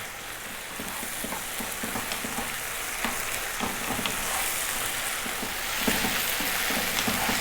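Garlic, ginger and whole chillies fry in hot oil for a restaurant-style lamb curry, a dense, continuous close-up sizzle with light stirring scrapes throughout and no speech.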